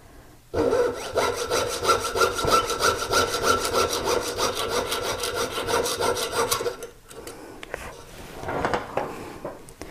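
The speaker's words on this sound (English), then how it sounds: "So get your jeweler's saw and we'll cut this open." A jeweler's saw cuts through a metal ring on a jewelry bench, making a steady, rapid rasping back-and-forth stroke, close and fairly loud for about six seconds, then stopping and leaving quieter handling sounds.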